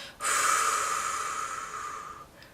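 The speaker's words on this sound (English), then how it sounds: "breathing in, nice deep breath, nice deep, and then you pull it through, breathe out slowly" A single slow, deep breath drawn in through the nose, close and steady, lasting about two seconds before fading into quiet.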